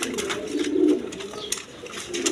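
A pair of Indonesian-colour pigeons, a hen and a cock, coo in low, rolling bursts close by, mixed with short sharp clicks and rustling and no voices.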